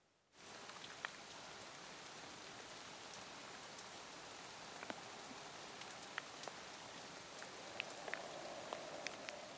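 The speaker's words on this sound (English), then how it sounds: "The wind continues, as does the rain" Steady rain falls with wind in a Willow Creek, California forest, a constant close wash of drops with occasional sharper drips, no voices.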